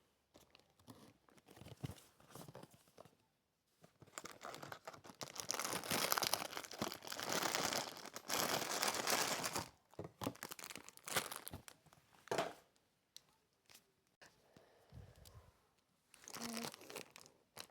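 Plastic packaging around a Labubu toy box crinkles and tears up close, quiet rustling in irregular bursts with a longer dense stretch in the middle and short pauses between.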